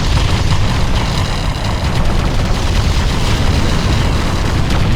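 Loud, dense rumbling explosion from a Hoverdyne hover vehicle being destroyed in the real-time strategy game Ground Control, a continuous roaring blast with crackling debris lasting several seconds and no speech.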